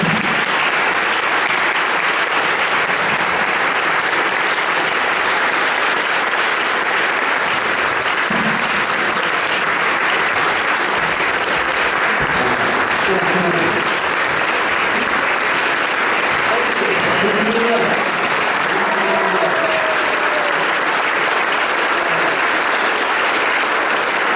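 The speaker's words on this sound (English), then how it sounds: "I'd like to get the comics to come back up here for another round of applause" Sustained audience applause for comedians at a mental health recovery comedy show, a steady wash of many clapping hands with faint voices and cheers mixed in throughout.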